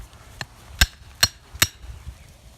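A trap stake being hammered into the ground with four sharp metallic whacks at an uneven pace, close and clear over a quiet outdoor background, with no voices.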